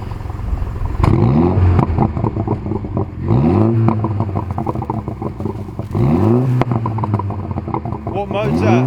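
A Mini Cooper JCW F56 engine with an aftermarket exhaust, in mid mode, revs up repeatedly in loud bursts with a raspy exhaust note, rising and falling, while people talk nearby.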